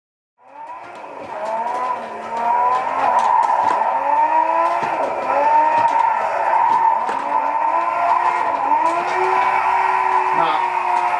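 A real car drifting after simulator practice, tires squealing in long sliding wails with rising and falling pitch as the engine roars, loud and close, almost continuous for several seconds after a quick start.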